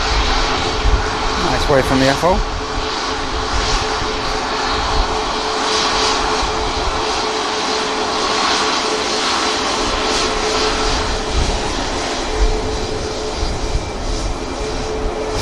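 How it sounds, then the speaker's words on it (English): A SunExpress airliner bound for Antalya takes off from Manchester Airport, its jet engines giving a loud, sustained roar throughout, with someone speaking briefly over it. "Looks like the Sun Express are going to get straight out as well."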